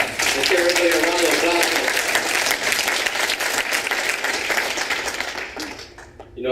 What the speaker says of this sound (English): Let's give everybody a round of